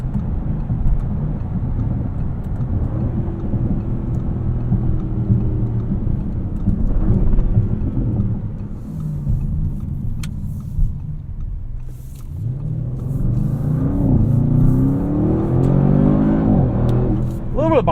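A 2024 Audi RS7 engine pulls hard while driving, a loud, close exhaust drone that holds steady and then climbs in pitch as it accelerates, with someone talking over it.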